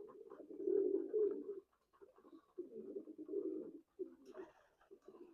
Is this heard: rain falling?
no